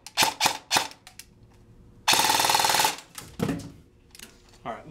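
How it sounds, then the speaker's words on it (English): Airsoft gun going off during a game, with a few sharp snapping shots and then a short burst, followed by scattered clicks and knocks close to the microphone. "Oh, my gun just went off."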